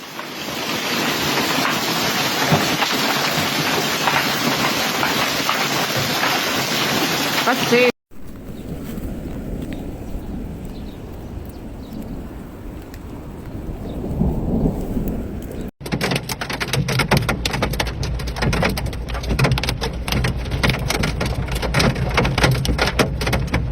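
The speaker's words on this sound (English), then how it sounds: "with the rain came the hail, initially with very small hailstones" A heavy storm in Treviso, Italy, with rain and small hailstones, roars as a dense, steady wash. A quieter, rumbling stretch breaks it up before the loud drumming of precipitation returns.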